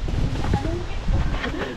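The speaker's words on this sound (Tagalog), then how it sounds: "grabe, ang lakas ng hangin, uy" Gusty storm wind in Finland buffets the microphone in heavy, roaring bursts while people talk underneath.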